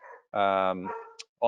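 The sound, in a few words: dog barking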